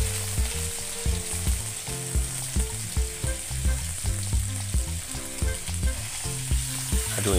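Pork for adobo frying in a hot pan, a bright sizzle throughout with rhythmic stirring and clanks against the pan, loud and near, no one speaking.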